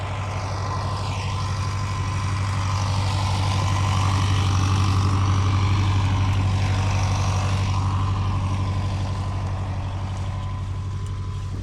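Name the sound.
tractor pulling a wagon in a vegetable field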